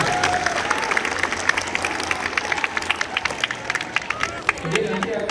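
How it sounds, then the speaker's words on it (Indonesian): Students at a Monday school assembly give a sustained round of dense clapping. The applause carries on steadily for several seconds with crowd murmur and some voices mixed in. "boleh tepuk tangan."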